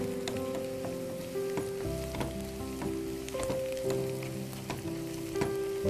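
Onions and green chillies frying in a pan, a steady close sizzle with crackling pops that runs unbroken and without talk.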